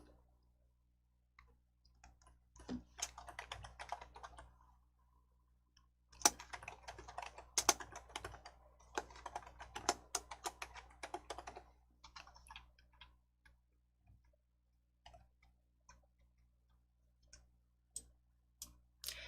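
Typing on a computer keyboard while filling in a PowerPoint slide, producing quiet, close key clicks in irregular bursts and runs separated by short pauses, with no talking.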